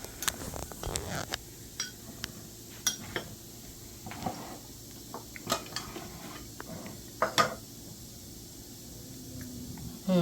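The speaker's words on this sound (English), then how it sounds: "And I'm gonna stir it." A spoon scrapes and clinks against a pan while salsa is stirred in a home kitchen, with irregular close metallic taps and scrapes over a quiet background.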